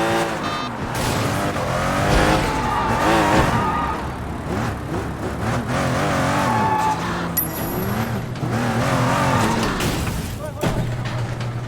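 A car in the Sleeping Dogs open-world game drives hard, its engine revving in rising and falling sweeps while tires squeal and skid through the turns, loud and continuous for the whole stretch.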